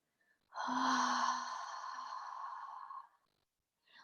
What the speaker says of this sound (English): as you expand the belly and you just breathe out with the sound of